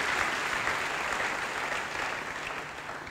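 A congregation at a church service applauds with steady, dense clapping that stays loud and even throughout, without talk over it.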